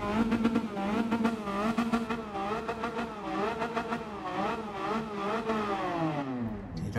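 A Honda Beat fitted with a titanium muffler in Gran Turismo 7 revs and accelerates, its high buzzing engine note rising and falling through gear changes before cutting off at the end, with no talk.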